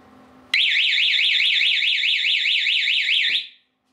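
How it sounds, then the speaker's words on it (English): A wireless home security system's alarm siren, triggered by its tamper feature, bursts on abruptly with a loud, piercing warble that rises and falls rapidly and steadily for about three seconds before cutting off. "you're gonna have almost 300 decibels in siren going off"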